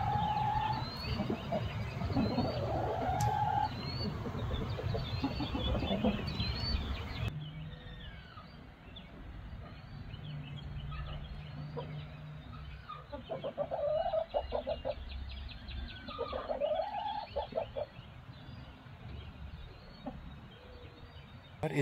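Backyard homestead hens clucking together in a flock, overlapping rhythmic clucks and drawn-out calls, fairly close, with a rooster among them and no talk.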